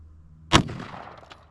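A single loud, sharp rifle shot from an AR-15 firing a green tip 5.56 round into bricks outdoors, with a sudden crack followed by a decaying echo and debris noise.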